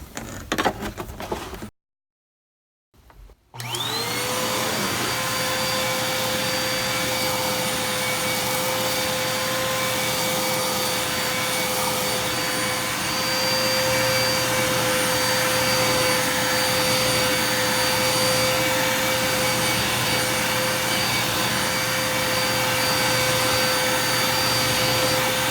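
A Red Devil Featherlite vacuum cleaner starts up after a brief silence and runs steadily, a loud close whine with a sustained tonal hum that holds for over twenty seconds.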